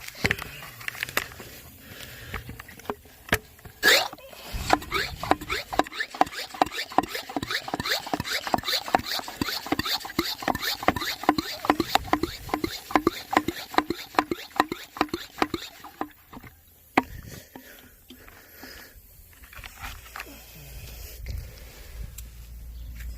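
Pump sprayer misting insecticide onto garden plants against lily beetles, whitefly, greenfly, blackfly and caterpillars: a long run of soft rapid pattering and hissing spurts, close by, with no voices.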